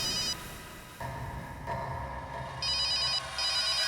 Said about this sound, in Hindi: अभी 1 मिनट में फोन की रिंग बजेगी